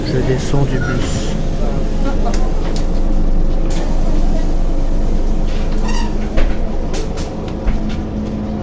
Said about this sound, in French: Je descends du bus.